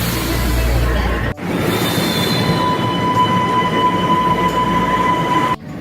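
A subway train on Panama City's metro at Albrook station rumbling along the tracks, loud and close, with a high sustained squeal of wheels and a brief break in the noise.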